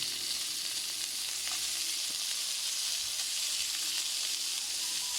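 Meat sautéing with chili flakes in a hot pan, giving a steady, even sizzle and hiss that runs unbroken from start to finish with no voices.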